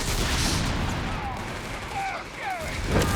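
Artillery fire in the real-time strategy game Company of Heroes 3, with booming impacts and scattered gunfire mixed into a busy battle din, loudest at the start and again near the end.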